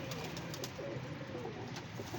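Low murmuring coos from a flock of pigeons at a loft show drift under constant ambient noise, soft and continuous without speech.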